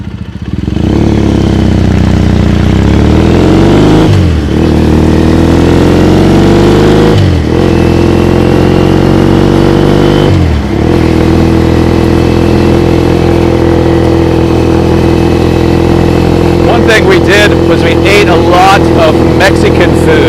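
A motorcycle rides through Tokyo traffic, its engine droning loud and close as it rises through the gears in several climbing pulls, with clattery bursts near the end; a voice talks over it.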